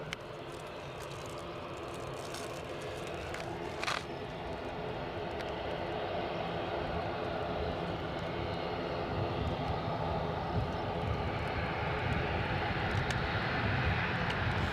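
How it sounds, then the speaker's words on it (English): An ATR 72 turboprop waiting to take off at Edinburgh Airport gives off a steady engine drone that builds slightly louder over time, heard from a distance with a brief clatter partway through. "this is an ATR 72 shortly to take off for Exeter"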